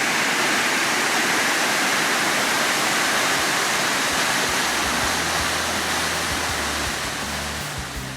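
Rockville Waterfall, a two-tiered falls in Cambodia, pours in a loud, continuous roar heard up close, with a deeper rumble in the latter part and no voices.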